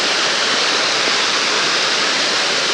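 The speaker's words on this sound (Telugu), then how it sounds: "ఎట్టకేలకు వచ్చేసాం ఫ్రెండ్స్, రాయకల్ వాటర్ ఫాల్స్" Rayikal waterfall in Telangana rushing down between hills, a steady, loud, broadband roar of falling water that fills the scene continuously without pause.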